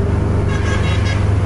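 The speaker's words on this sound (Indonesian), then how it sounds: "Suara klaksonnya lihat tuh." A racing bus on a road in Medan sounds its horn, a loud, steady, sustained honk lasting the whole moment over the engine and traffic noise.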